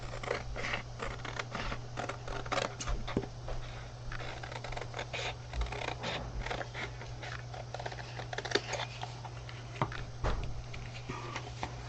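Scissors cut out a paper scrapbook page element, with soft repeated snips and crisp rustling ticks at close range in a quiet room, and no talk.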